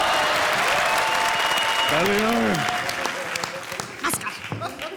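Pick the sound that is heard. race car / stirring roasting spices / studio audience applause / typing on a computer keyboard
studio audience applause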